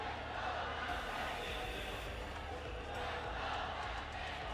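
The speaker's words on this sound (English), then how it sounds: "Listen to that crowd." A big arena crowd roars and cheers steadily at an ALGS Apex Legends championship match-point final, a dense wash of distant voices that holds for several seconds without pause.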